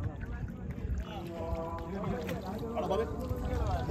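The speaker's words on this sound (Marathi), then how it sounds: "पहिली एक बोट गेली आणि ही दुसरी बोट." A boat carrying a Ganesh idol moves off across the water during a Ganpati immersion in Shrivardhan, its steady low engine rumble mixed with wind and crowd noise, while a voice talks over it throughout.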